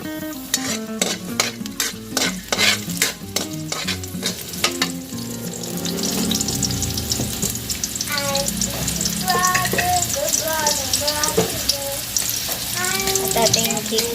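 Onion goes into a hot pan for bihon guisado, with a few sharp clanks of a utensil against the pan, then a steady loud sizzle of frying while it is stirred and scraped.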